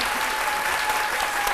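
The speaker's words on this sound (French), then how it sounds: "je vous demande de vous lever et d'applaudir très fort ceux qui sont sur ce plateau" A standing studio audience at a midday television show applauds loudly and continuously, dense clapping filling the room without a break.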